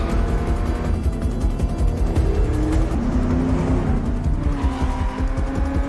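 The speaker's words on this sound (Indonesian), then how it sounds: "Aksi kejar-kejaran pun berlanjut." Cars racing in a high-speed chase, engines roaring loud and close with rising whines and tire squeals as they tear past, a constant dense rumble with no voices.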